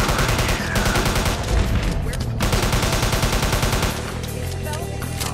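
Rapid, continuous bursts of gunfire from the zombie shooter game Zombiehunter, a dense loud volley of shots that thins out toward the end.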